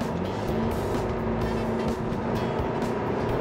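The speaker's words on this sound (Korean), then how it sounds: "급가속 한번 해보겠습니다." A 2.0-litre car engine pulls hard under heavy acceleration, a loud continuous roar with road and wind noise heard from inside the cabin.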